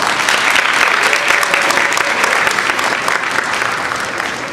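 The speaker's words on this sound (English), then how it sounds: "I think we should give everyone that put this together a big round of applause." A loud, sustained round of applause from a crowd at a grief awareness day program, with dense clapping at a steady level and tapering slightly near the end.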